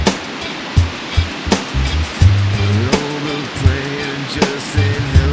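A waterfall in a gill in the Yorkshire Dales gives a steady broadband rush of falling water, with sharp clicks and low tonal sounds breaking in now and then.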